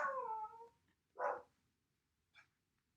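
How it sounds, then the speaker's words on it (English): A small pet dog barks three times in short, spaced yelps, the first longest and the last faint, in a quiet indoor room with no talking. "I have a little doggy. He started barking."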